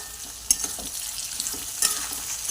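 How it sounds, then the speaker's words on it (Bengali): Onions sizzle steadily in a pan for chicken kosha while a spoon stirs them, with two sharper scrapes against the metal amid the soft, even frying hiss. "ভালো করে পেঁয়াজগুলো লাল লাল করে ভেজে নিতে হবে"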